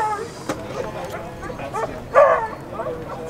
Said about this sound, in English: Those beagles, man.